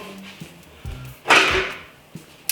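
A lid closing on a homemade kvass container, a few light clicks and knocks followed by one louder scraping clatter, then a couple of sharp taps, close up and alone.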